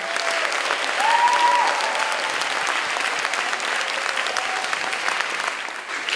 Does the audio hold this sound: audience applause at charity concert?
yes